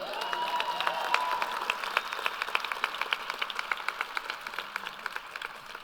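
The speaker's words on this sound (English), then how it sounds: "I heard some applause, come on with it." An audience at a service recognition luncheon cheers and claps, the applause swelling and then settling into a rhythmic, evenly spaced clapping that grows quieter toward the end, with a few whoops early on.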